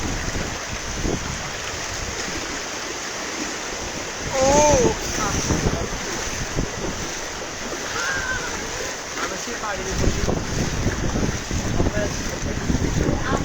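Monsoon flood water surges over village houses on Nijhum Dwip island in Bangladesh as strong wind buffets the microphone, a continuous rushing roar with faint voices briefly audible.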